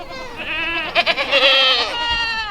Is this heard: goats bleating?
yes